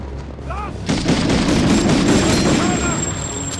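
Gunfire crackles in Medal of Honor, the World War II shooter, with M1 rifle and Thompson gunfire and explosions in a snowy mountain pass. Shots burst densely and close after a brief quiet start, with a voice talking over them.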